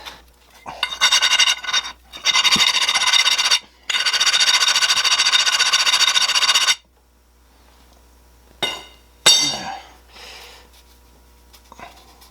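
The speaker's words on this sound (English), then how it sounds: "I want to clean up these areas right here just a little bit with a file, just to clean up any rust" A hand file rasps rust off front brake parts on a 2006 Toyota Matrix 4WD in close, gritty scraping strokes, two long runs followed by a few short, sharper scrapes and clinks.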